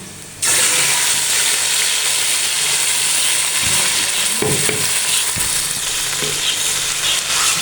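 A ginger, garlic, green chili and tomato paste hits browned onions in hot oil, setting off a loud sudden sizzle that keeps crackling steadily up close, with a few stirring clunks along the way.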